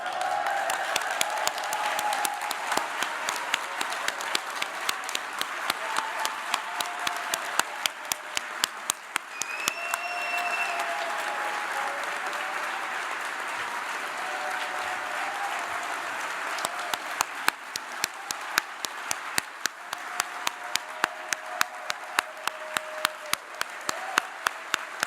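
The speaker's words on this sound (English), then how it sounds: "We didn't get to clap in person" An in-person audience at a Unitarian ministers' gathering claps in a sustained round of applause, dense and steady, with sharp individual claps standing out near the mic and a few faint voices underneath.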